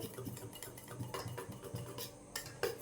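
A spoon stirs food colouring powder into a bowl, scraping and clinking against the sides in quick, uneven strokes, quiet and close with no voices.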